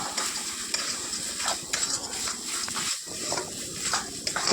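Stuffing paste for a mustard pointed-gourd curry frying in a pan until reddish, a close, steady sizzle with rhythmic spatula scraping and clinks against the metal.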